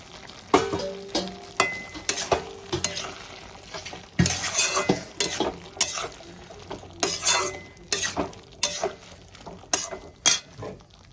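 Ground poppy and mustard seed paste stirred into bottle gourd stems frying in a pan, with a utensil repeatedly scraping and clinking against the metal over a steady close sizzle, in irregular bursts.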